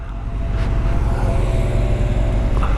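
Honda Hornet 600 motorcycle engine revving above 7,000 RPM on an open road, a loud, steady high-revving drone that stays up close for the whole stretch with no talk over it.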